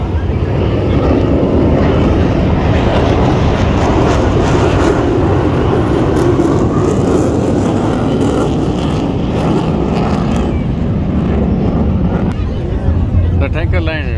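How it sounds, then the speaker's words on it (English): F-15 fighter jets make a flyby at a Singapore air force open day. A loud, broad jet roar fills the whole stretch, mixed with wind buffeting on the microphone. "the F-15s are doing a flyby before they turn and come around for a landing"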